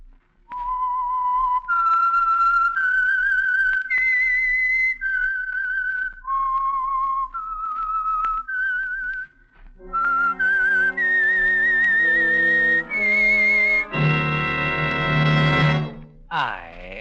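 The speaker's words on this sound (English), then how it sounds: "the signal to listen for is this whistle that identifies the Signal Oil program, The Whistler" A lone whistler carries a slow, eerie signature melody for the Signal Oil radio program The Whistler, each held note clear and close, before a brighter swell of accompanying tones takes over near the end.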